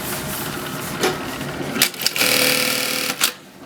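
An AtlasUSA bartack sewing machine stitching parachute fabric gives a dense mechanical buzz broken by sharp clacks, close and loud, running in short bursts.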